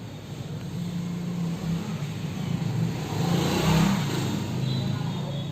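A Honda CB Unicorn 160 BS6 motorcycle engine, a 2020 model, runs at a steady low idle close by, holding an even rumble with a slight rise in revs partway through, with no talk.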